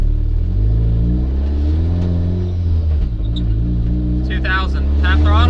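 A 1994 turbocharged Mazda Miata engine holds about 2,000 RPM at half throttle with a misfire, a steady loud low-pitched drone with uneven wavering throughout, while someone talks over it near the end.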